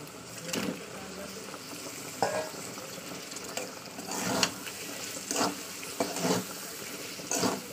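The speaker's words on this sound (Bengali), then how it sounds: "তো চলুন এবার আমি দিয়ে দেবো যে মাছগুলোকে ধুয়ে রয়েছে দিয়ে দিচ্ছি।" Live snakehead fish, freshly washed, go into a pan of frying spice paste for a bhuna curry, giving bursts of sizzling and stirring scrapes that rise and fade in several waves.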